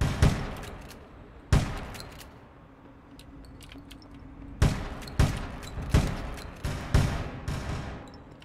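Shotgun blasts in APB Reloaded during a Christmas event, sharp loud reports spaced out at first, then a quicker cluster of four or five shots, each with a short ringing tail over quiet background.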